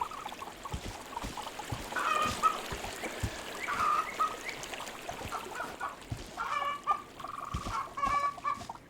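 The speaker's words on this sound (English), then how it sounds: "And then finally the chickens." Chickens cluck and squawk in short bursts as a game sound effect in an Unreal Engine level, the calls coming in scattered clusters over a soft, busy background of faint taps and ambience.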